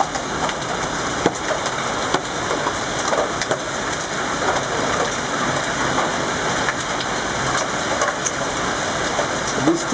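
A heavy rainstorm downpour in Anzano del Parco pounds steadily on surfaces, a dense, loud, unbroken hiss of rain with occasional sharper drops.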